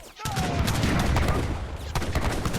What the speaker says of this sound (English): Getting off good volleys with these cannons